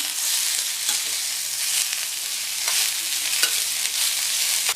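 Broad beans and curry leaves sautéing in hot oil give a steady, close sizzle, with faint stirring scrapes now and then and no voices.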